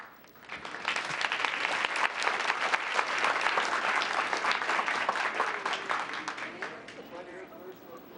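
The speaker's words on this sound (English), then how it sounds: "Let's give Group 1 a big round of applause." Audience applause at a town council meeting, sustained clapping from a room of people lasting several seconds before tapering, with a few voices mixed in.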